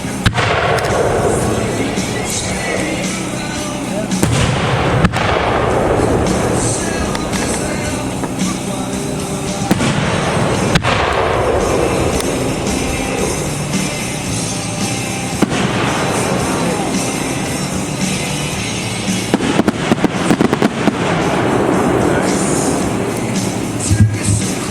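Six-inch Young Fang aerial firework shells from a professional 1.3 display burst one after another, each sharp boom rolling into crackle and long rumbling echoes across open air, loud and continuous with no talking.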